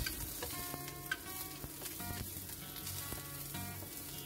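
Garlic and onion fry in a pan while chicken adobo is cooked, giving a steady close sizzle with faint scraping stirs throughout and no talking.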